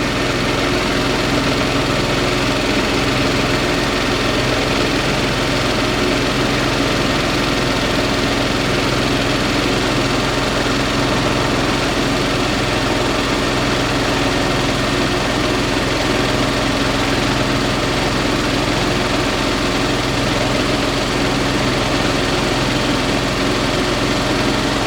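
A Yamaha golf cart engine runs continuously after a fuel pump replacement, a steady, loud, close idle with a low mechanical drone and vibration that holds the same pitch throughout.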